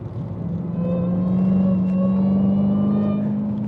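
A Dodge Hellcat driven on the road, its engine giving a close, steady deep rumble with a rising tonal drone as it pulls, loud and continuous from inside the car, with no talking.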